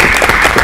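A short burst of light golf-clap applause at a school district facilities committee meeting, a few quiet hands patting briefly and close by.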